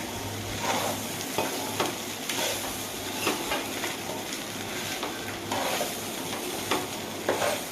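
Egg fried rice ingredients stirred in a frying pan over a strong, steady sizzle, with repeated scraping strokes of a spatula against the pan, close up and continuous, without any talking.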